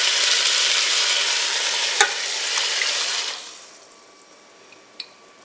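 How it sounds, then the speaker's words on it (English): Water pours into a pot of meatball soup with diced potato, a loud, bright rushing splash for about three seconds that fades to quiet with a couple of faint clinks. "Now we're going to add in 2 cups of water."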